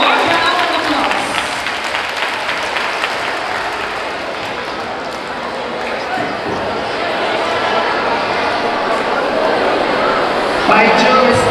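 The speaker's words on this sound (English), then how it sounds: "Let us give her a warm round of applause." An audience at a school recital event in Tudela gives a warm round of applause, a loud continuous wash of clapping with crowd noise and some voices mixed in.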